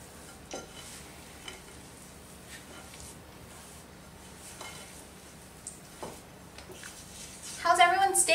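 Chocolate chip cookie dough gets mixed in a bowl. Soft scraping strokes recur at an irregular pace with occasional light clinks of utensil on bowl. The strokes stay quiet, and a voice talks over them throughout.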